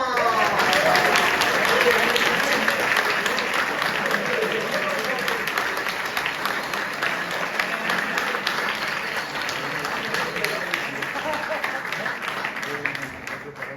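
Sustained audience applause honoring family members at a ceremony, dense and steady clapping that fills the room and slowly eases over about fourteen seconds, with some voices faintly mixed in.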